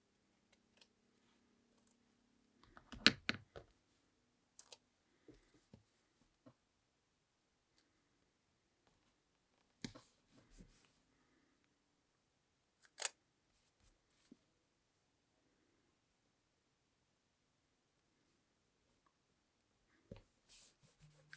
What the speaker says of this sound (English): I'm just gonna use my scissors to cut it in half